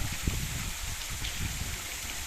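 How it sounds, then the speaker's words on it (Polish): A waterfall in a small town in Sardinia, the Gattidai falls, gives a steady, even rush of falling water, a continuous broad hiss with low rumble and no pauses. "Nawet w miasteczku są wodospady."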